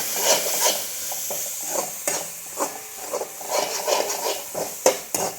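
Sautéing and stirring for an eggplant gravy, a spatula scraping and knocking against the pan in irregular strokes over a low, steady sizzle, close up with no talking.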